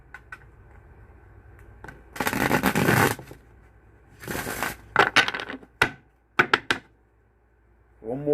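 Tarot cards are shuffled by hand in two loud bursts of dense riffling. Sharper card snaps and taps follow in a quiet room, and the last moments are nearly silent.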